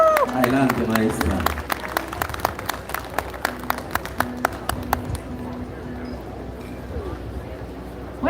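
An audience at an evening anniversary serenade for the Battle of Ayacucho claps for a woman singer, with scattered, uneven claps thinning out under a voice over a speaker system.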